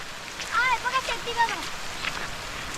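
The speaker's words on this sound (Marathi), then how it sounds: "आता पावसाची पण आज दमदार हजेरी लागलेली आहे" Heavy first monsoon rain at a river in the Konkan hisses steadily across the whole clip, with a few brief high whistling or voice-like tones rising over it early on.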